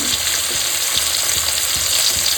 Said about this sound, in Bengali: ভালো করে মাছগুলো একটু ভাজবো লাল লাল করে